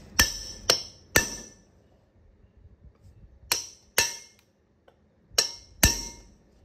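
Sharp metallic hammer blows on a punch ring out in quick pairs, driving wheel studs home on a 7.3 OBS truck, seven strikes in all, with quiet pauses between them.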